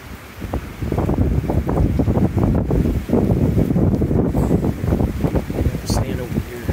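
Strong storm winds with intense rainfall roar loudly and steadily, buffeting the microphone for the whole stretch with rumbling gusts and dense noise.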